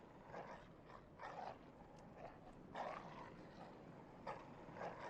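Dogs bark in the video game Bloodborne, several faint, muffled barks and yelps scattered at intervals over a dense, noisy game background.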